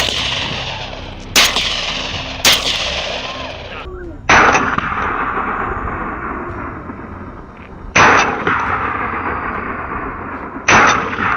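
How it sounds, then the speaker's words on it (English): Five loud, close gunshots ring out during a wild boar hunt, spaced unevenly over several seconds, each a sharp crack followed by a long echoing tail. "Gunfire erupted, each shot delivered, each one clean."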